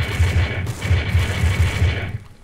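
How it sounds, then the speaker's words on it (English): Gunfire in the zombie shooter game No More Room in Hell comes as a fast, loud burst of repeated shots in an even rhythm, ending abruptly, with no voices over it. "Michael, can I say you suck at that shotgun?"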